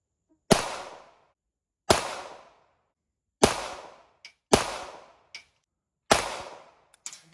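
Five evenly spaced shots from an HK P7 pistol at an outdoor range, each a sharp, loud crack with a short decaying tail, and small metallic clinks of ejected brass between them.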